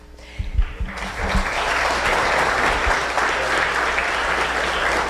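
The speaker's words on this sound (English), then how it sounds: "One more round of applause for these guys." An audience at a chamber of commerce awards ceremony bursts into sustained applause after a few loud opening claps, the clapping dense and even from close by for several seconds.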